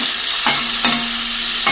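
Shrimp frying in a pan, a loud close sizzle with a few sharp stirring scrapes spaced through it, no voices.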